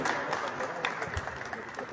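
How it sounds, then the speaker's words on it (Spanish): Audience at an anniversary event for the town of Tiabaya clapping, a fairly faint continuous patter with a few sharper claps standing out. "Bien, fuertes aplausos"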